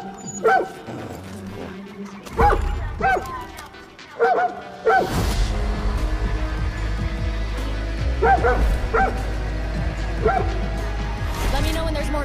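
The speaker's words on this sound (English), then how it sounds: "dog is so cute." A dog in the video game Far Cry New Dawn gives several short, close barks and yips in separated bursts, with a loud low rumble and talk running underneath during the latter half.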